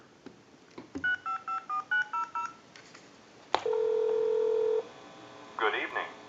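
A tone dialer held to a telephone handset plays a quick run of eight or so clean DTMF beeps, then a steady dial-like tone sounds for about a second before faint chirping follows.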